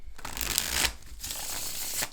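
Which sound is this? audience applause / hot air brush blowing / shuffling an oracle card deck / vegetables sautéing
shuffling an oracle card deck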